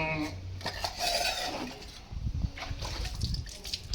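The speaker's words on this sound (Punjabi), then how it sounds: "ਭਾਂਡੇ ਮਾਂਜਣੇ ਪੈਂਦੇ ਨੇ" Dishes being washed: steel utensils and pots clink and clatter against each other close by, with splashing water and scrubbing in between, and no clear talk.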